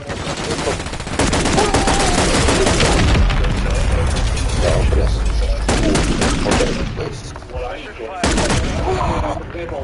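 Heavy gunfire in a first-person shooter video game, loud continuous automatic bursts and booming shots packed together, with brief drops, and game voices partly over the din.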